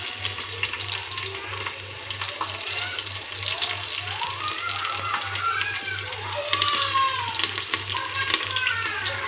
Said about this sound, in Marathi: लसूण लगेच भाजला आहे फोडणीत येताना